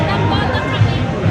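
Crowd chatter on the street outside a World Series game in Toronto, a steady murmur of many voices close around with no single voice standing out.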